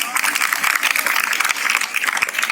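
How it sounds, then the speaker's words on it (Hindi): A room of students and staff at a Women's Day event in an inter college in Meerut claps loudly and steadily, crisp individual claps standing out through the whole stretch. "बहुत बड़े ताली बजाओ दोनों"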